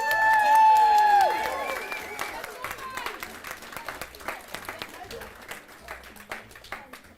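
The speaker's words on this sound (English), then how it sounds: "can we have another cheer for Wishaw Eclipse?" An esports finals audience claps and cheers for the team Wishaw Eclipse, starting as a dense burst of applause and whoops that thins into scattered claps over several seconds, with voices mixed in.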